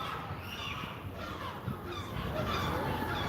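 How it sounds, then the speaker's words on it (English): A flock of seagulls calling noisily near the sea in Istanbul, a dense chorus of overlapping cries over steady outdoor background noise. "It's a flock of seagulls making a lot of noise."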